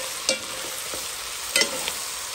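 Onions being stirred with rabbit and bacon in a pot, a continuous close frying hiss broken by two sharp utensil scrapes and a lighter knock, no voices.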